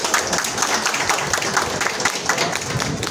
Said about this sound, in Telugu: I request every one to give a big round of applause